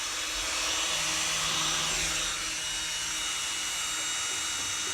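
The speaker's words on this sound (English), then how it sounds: "I've got a cordless drill" A steady whirring motor hum runs continuously, a cordless drill driving a small pump moving water from a container into a tank, with a faint watery hiss beneath.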